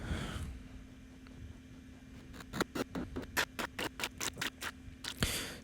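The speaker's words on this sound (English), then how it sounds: "I just wanted to make kind of a granular sound that was sort of a watery snare" Watery, granular snare built from layered, bit-crushed and glitched samples: a faint wash, then a rapid stuttering run of sharp clicky hits growing denser before a final burst.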